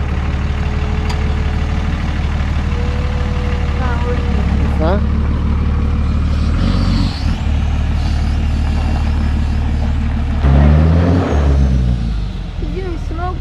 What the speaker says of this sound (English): Look at this monster truck.